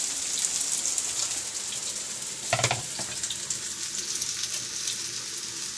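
Raw minced-meat kebabs frying in a pan give off a steady hissing sizzle, with a brief louder crackling burst partway through and no talking.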